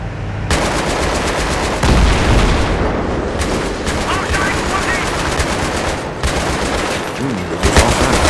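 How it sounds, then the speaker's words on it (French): Sustained Battlefield 3 video-game gunfire roars almost without pause, with dense machine-gun bursts, rattling volleys and heavy booms, loud and close, while a player occasionally talks. "ça tire dans tout"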